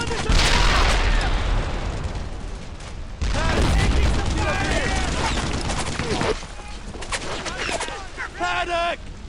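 Heavy gunfire in a World War II battle in Brothers In Arms: Earned in Blood, with dense bursts of rifle and machine-gun shots and booms crowding one another, while voices shout under the din.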